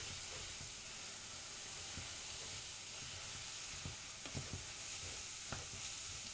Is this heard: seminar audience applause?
no